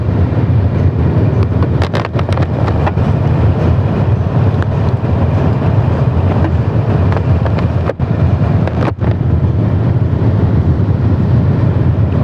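A 17-year-old Honda Supra motorcycle rides on a long test run after new shock absorbers were fitted, giving a continuous engine drone with heavy wind buffeting and a couple of brief thumps.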